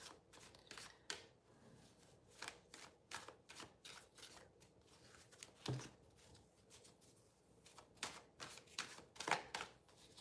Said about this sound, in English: I just want to get a good shuffle on my cards.